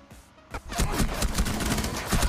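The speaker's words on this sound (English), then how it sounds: "Stop fucking shooting me" Rapid gunfire in the tactical shooter Rainbow Six Siege, a dense, continuous burst of overlapping shots after a brief quieter lead-in, loud and close.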